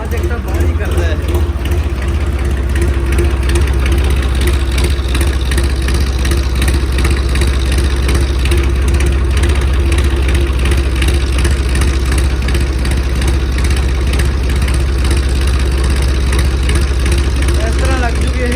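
A car engine with a turbo whistle and a silencer fitted idles nearby, a loud, steady low drone with a faint airy whine riding on top, unbroken throughout.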